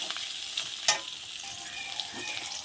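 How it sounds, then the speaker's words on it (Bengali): Steady crackling sizzle of garlic paste frying in hot oil, with one brief clink partway through and no voices. "রসুনটা একটু লাল লাল করে ভালো করে কিন্তু ভাজা করে নেব"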